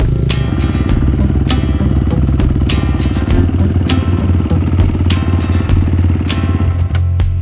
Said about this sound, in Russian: Ну, смотрите, едет пока Антон